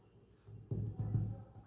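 Marker or chalk writing on a board during a chemistry lesson, a few short scratchy strokes in quick succession, close and fairly faint against a quiet room.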